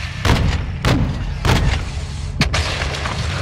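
Artillery fire in Call of Duty Modern Warfare 2, during a fight with a cartel, lands as four heavy, muffled booms at irregular intervals over a constant low rumble of battle.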